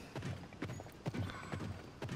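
Horse hooves clip-clop in The Legend of Zelda: Tears of the Kingdom, a steady run of soft, evenly paced thuds at moderate distance over faint game ambience.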